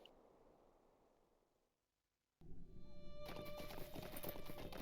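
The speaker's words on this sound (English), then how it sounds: "Again, I use the Swift Horse." A swift horse's hooves clatter in Lord of the Rings Online. A quiet hush gives way to a sudden, loud and steady burst of galloping with a bright ambient wash, and no one speaks.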